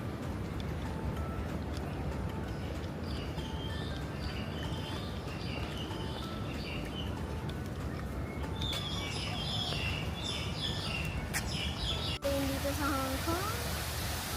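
Birds call and chirp faintly amid a steady outdoor wash of noise, with a few brighter calls near the end.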